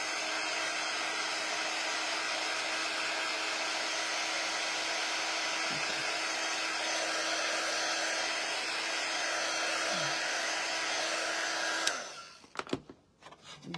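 A hair dryer blowing on a chalk craft project set on a table, a steady loud whirring hum that runs unbroken for about twelve seconds before clicking off, followed by a few handling knocks.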